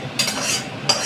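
Fried rice cooks in a pan as cashews and raisins fried in ghee are added and stirred, making two brief scraping, sizzling swishes close by.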